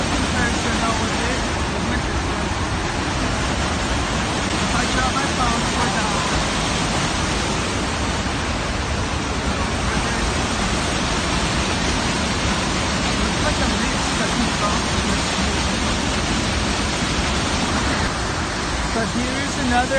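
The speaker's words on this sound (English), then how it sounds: "Here's another angle of the waterfall." A waterfall pours in a constant, dense roar of rushing water, loud and unbroken throughout, with faint voices mixed into the steady wash.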